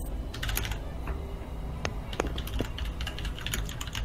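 A computer keyboard is typed on quickly during a strategy game session, a close run of sharp clicks and clacks in irregular bursts over a low background hum, with no speech.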